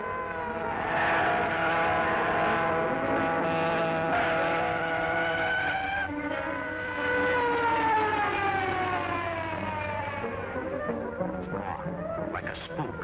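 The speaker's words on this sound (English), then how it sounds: "Police car following us, Cato." A wailing police siren from a car in pursuit, its tone gliding up and down loudly and continuously over a low engine drone.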